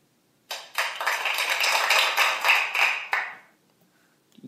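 A small group of people clapping during a tabletop card game session, a burst of dense applause lasting about three seconds that starts abruptly, swells and then stops, with no talk over it.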